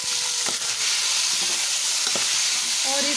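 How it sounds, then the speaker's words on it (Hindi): Salted chicken frying in a pan on a low flame gives a loud, steady hissing sizzle close by, with a few soft stirring knocks and faint crackles, and no one speaking. "इसको लो फ्लेम पे थोड़ी देर के लिए हम भून लेंगे"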